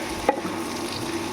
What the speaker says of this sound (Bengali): এখন আমি ভাজছি আলু রুটির সাথে খাওয়ার জন্য।